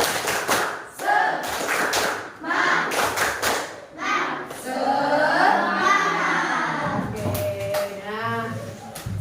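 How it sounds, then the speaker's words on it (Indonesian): A school class performs the tepuk semangat spirit clap, with bursts of rhythmic group clapping alternating with children chanting in unison, loud and close, several patterned clap sequences in a row. "Tepuk semangat."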